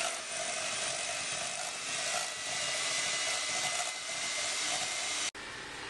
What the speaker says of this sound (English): it took less than 30 seconds to whisk up the cream